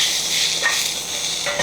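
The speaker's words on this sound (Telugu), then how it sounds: "ఇప్పుడు నాకు జీలకర్ర ఆవాలు వేగిన సౌండ్ వస్తుంది, ఆవాలు చిట్పట అంటున్నాయి" Cumin and mustard seeds crackling in hot oil for an egg-garlic chilli dish, a steady close hiss with a few sharp pops breaking through, and no voices.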